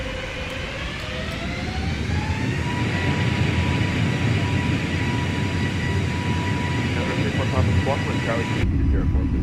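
Airbus A320neo jet engines at takeoff thrust in Microsoft Flight Simulator 2020, a steady, loud broadband roar with a rising tonal whine that holds throughout, with a voice talking over it near the end.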